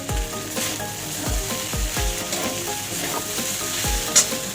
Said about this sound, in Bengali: আলু ভেন্ডি পেঁয়াজ ভাজা হয়ে গেছে